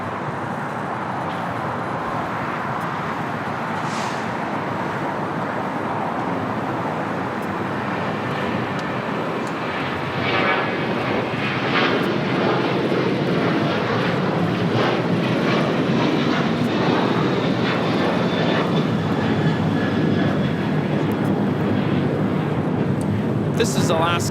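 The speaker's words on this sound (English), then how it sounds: "This is Alaska Airlines 1418 taking off to Guadalajara on the 737-900ER" An Alaska Airlines Boeing 737-900ER takes off at LAX, its jet engines building from a distant rumble into a loud, sustained roar with a rising whine, while people talk over it.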